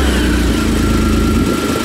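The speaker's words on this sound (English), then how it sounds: "So we've got the engine running right now, and it's not overpowering me at all." A Kawasaki Mule Pro-FX EPS utility vehicle's three-cylinder engine with a stainless steel exhaust runs close by: a loud, steady, low drone that holds even throughout with no speech.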